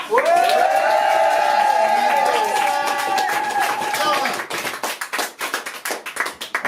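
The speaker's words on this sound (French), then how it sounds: "une première fois, ça s'applaudit 2 fois" Applause from the audience at a slam poetry evening, clapping breaking out while a voice speaks over the first few seconds, then scattered louder claps carrying on alone near the end.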